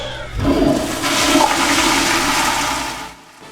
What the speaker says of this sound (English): we have been able to begin the process of making all of our bathrooms touchless. And so when you flush,